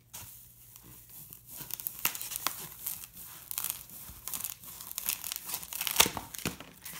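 A foam block is cut down to fit a tray, giving scratchy, crinkling, tearing sounds close by, in irregular strokes that build and peak near the end.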